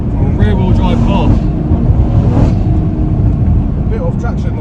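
A 500 bhp BMW M140i, rear-wheel drive, launches hard with brief wheelspin, its engine roaring loud and close from inside the cabin while people talk over it.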